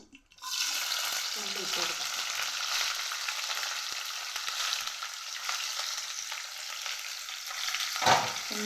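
Curry leaves frying in oil in a pan, a steady close sizzle running almost the whole time with faint stirring, a brief sharper splash near the end, and no talk over it.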